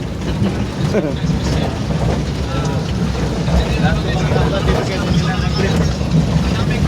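Heavy rain pours down in a steady, dense broadband roar that fills the whole span, loud and constant, with water splashing and faint voices mixed in.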